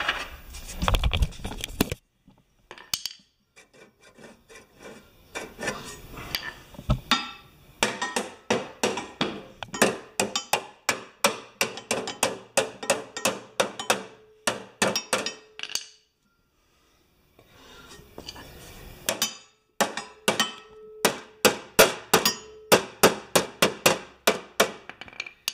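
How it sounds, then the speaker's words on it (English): A hammer strikes metal lawn mower parts in bursts of sharp, ringing blows, sometimes rapid runs of many hits, separated by brief pauses and short stretches of quiet, close by. "And we'll bring a hammer with us."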